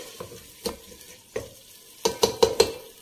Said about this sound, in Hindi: सिर्फ 5 मिनट हम इसे भूनेंगे